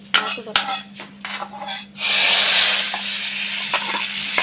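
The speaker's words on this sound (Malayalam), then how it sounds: "കട്ടിക്ക് വറുത്തു ഇനി അതെടുത്ത് അതിനകത്തോട്ട് ഒഴിക്കണം" Clattering and stirring noises give way to a sudden loud sizzle as hot fried mustard-seed tempering hits sambar, the hiss fading slowly with a few clinks.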